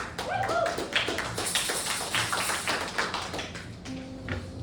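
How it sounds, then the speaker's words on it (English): An audience at a poetry event applauds, many hands clapping in a dense, patter-like stream that gradually thins out, with faint tonal background sounds near the end. "Give a round of applause, please."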